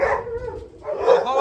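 A farm dog barks close by where a flock of sheep roams outdoors, sending out a couple of loud barks with a short gap between them, mixed with a voice-like sound.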